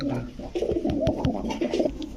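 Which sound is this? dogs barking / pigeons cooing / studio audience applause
pigeons cooing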